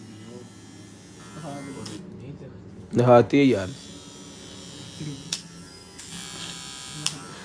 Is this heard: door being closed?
no